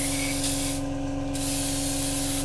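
Continuous loud hiss of spray paint laying a heavy coat onto a 1/48 scale Academy AH-64A helicopter model kit, steady and close with a slight change in tone midway and no talking.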